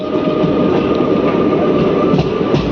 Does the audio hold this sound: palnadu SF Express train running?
yes